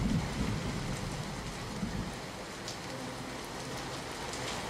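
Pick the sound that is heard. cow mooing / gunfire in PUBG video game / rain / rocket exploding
rain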